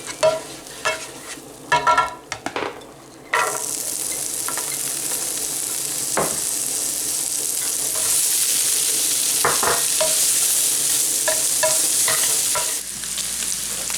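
Sausage and onions stirred in a buttered pan: a few utensil clinks and scrapes open, then a loud steady sizzle of frying takes over, broken by occasional stirring knocks and scrapes.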